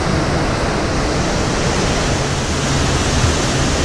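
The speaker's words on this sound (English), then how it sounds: "There's our wake." Water rushing in the wake at the stern of a cruise ship, a continuous loud broadband roar with no voices over it.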